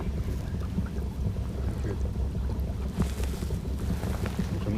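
Low steady engine drone of a ferry boat passing on a river, heard from a small fishing boat amid wind noise, moderate and continuous without speech.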